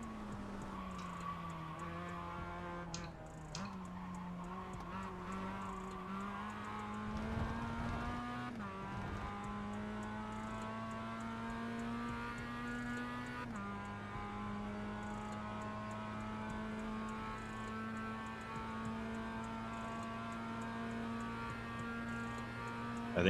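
A Mazda MX-5 race car in iRacing laps Mosport, its engine droning steadily at high revs with gear changes and brief dips in pitch, loud and continuous throughout.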